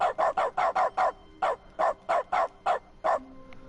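Repeated barking from a dog character in The Stanley Parable's dog mode, about a dozen sharp, evenly spaced barks close up, with a brief pause midway before the rhythm resumes.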